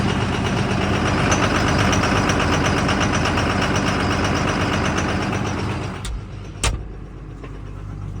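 A heavy truck's engine running steadily after a remote start, loud and close with a rough, rattling idle that dips briefly near the end before settling back.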